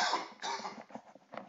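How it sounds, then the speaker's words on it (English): A man gives a short burst of harsh, close coughs, several rough bursts in quick succession. "Hang on, I got a cough again."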